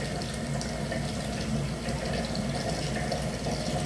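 Water runs steadily from a tap while a face is rinsed after a cleansing face mask, a constant close hiss and splash without pauses and no voices.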